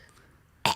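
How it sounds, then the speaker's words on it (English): A single short, rough throat-clearing sound bursts out near the end after a near-silent stretch, close and fairly loud. "I clear my throat."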